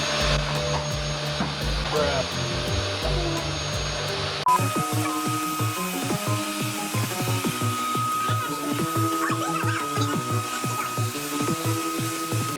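A vacuum cleaner runs on a dirty horse, a steady droning whine up close that is soon overlaid by rhythmic music with a beat.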